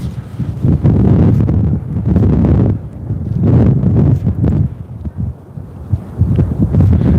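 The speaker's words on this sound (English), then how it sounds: "is this wind a killer on the volume of this video right here? Is the sound really, really bad with all this high wind?" Loud, gusty high wind buffeting the microphone beside a small park lake, low rumbling blasts that rise and fall continuously throughout without voices.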